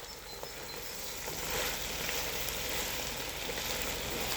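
Small onions frying in a pot for bœuf bourguignon, a close, continuous hissing sizzle that holds steady and swells slightly partway through, with no talking.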